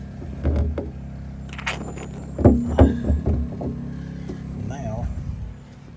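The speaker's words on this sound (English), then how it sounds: "Got my cam lock, hear my pump running." A water pump runs steadily, transferring rainwater from a smaller tank through a cam lock fitting into a larger tank; a low constant motor hum continues throughout, with a few louder knocks and thumps partway through and no talking.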